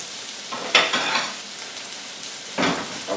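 Tofu frying in a hot pan for a vegan stir fry gives a continuous close sizzle, with louder crackling surges as pieces are moved, and no voices.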